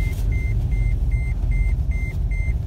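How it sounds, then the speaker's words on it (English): A car's seatbelt warning chime beeps repeatedly in an even rhythm, about twice per second, over a low engine rumble. "that little button tells us we need to put our seatbelts on. It is not happy, and it beeps a lot."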